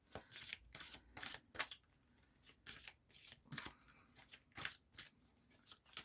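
Oracle cards riffled, slid and drawn from a deck in a series of crisp papery shuffling bursts at close range, with short pauses between handfuls and no talk.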